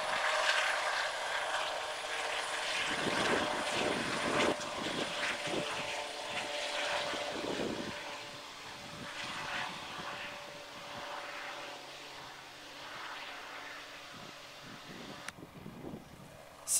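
A helicopter lifting off from a busy heliport with its rotors kept turning between flights, a steady broad engine and rotor roar with pulsing blade thumps that swell midway and then fade.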